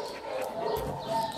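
A dog gives a short, faint bark or yip, heard once at a distance.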